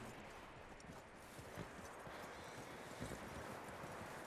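Horse hooves clip-clop steadily in Red Dead Redemption 2, a soft, faint rhythm of footfalls beneath a constant wash of ambient outdoor noise.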